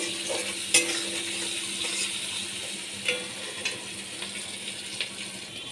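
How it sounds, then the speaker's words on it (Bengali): Onions frying in a pan, a soft continuous sizzle with occasional clinks and scrapes of stirring, fairly quiet and with no voices. "পেঁয়াজ আমি ভেজে নিচ্ছি।"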